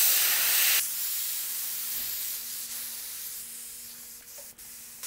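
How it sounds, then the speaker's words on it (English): Air hisses out of a BMX tire's valve stem in a loud, close burst that drops sharply after the first second, then continues as a softer steady hiss with a faint tone beneath it. "we're gonna just find our valve stem, we're gonna put something up against it to let out all the air"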